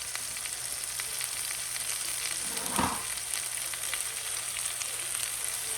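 Spinach dropped into a hot omelet pan gives a steady, fairly quiet sizzle of frying with a brief louder burst as the leaves land, no talking.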